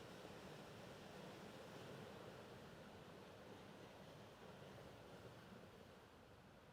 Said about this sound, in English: really try and listen to the sound of the sea